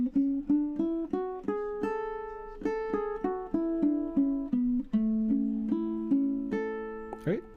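A ukulele plays a scale shape note by note, about twenty clear plucked tones in a steady rising and falling sequence, close and alone.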